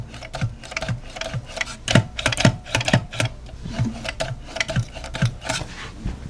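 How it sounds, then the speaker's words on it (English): Thrustmaster T598 racing pedals pressed repeatedly, giving a steady run of close, quiet mechanical clicks and soft thumps in an irregular rhythm, with no talking. "And this is what the pedals sound like."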